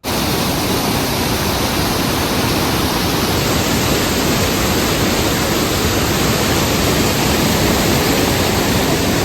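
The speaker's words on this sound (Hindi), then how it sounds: "यहाँ पर 2 मिनट खड़े होके जरा पानी की आवाज सुनना" Mountain stream water on the Kedarnath trek in the Himalayas, a steady, loud broadband rush that holds constant throughout with no talk over it.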